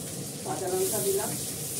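Whole green chillies dropped into a hot frying pan give a soft, steady sizzle, faint and brief, with a voice speaking over it.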